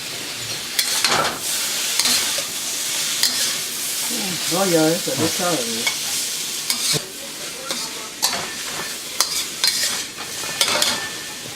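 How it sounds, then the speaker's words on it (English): Beef steak and Chinese celery stir-fried in a wok, a steady loud sizzle with brisk spatula scrapes and stirring clatter throughout, a brief tonal squeak in the middle. "So now we're going to put the Chinese celery in."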